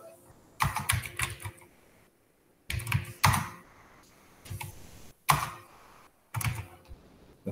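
Bursts of close computer keyboard typing while writing CSS code, several short flurries of quick key clicks separated by pauses, fairly loud and alone.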